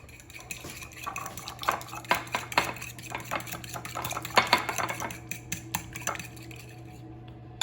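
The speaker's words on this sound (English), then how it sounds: "And whisk the egg." An egg is whisked in a bowl for breaded air-fryer mushrooms, giving close, irregular clinks and scrapes of utensil against the bowl over a steady low hum, with no talking.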